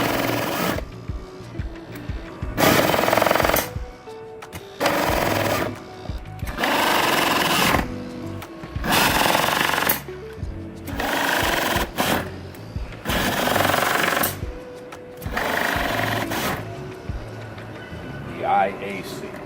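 An Aimco transducerized torque-control fastening tool runs in repeated bursts of a few seconds each, a loud rapid mechanical whir separated by short pauses, about seven cycles in a row, with a voice talking between them.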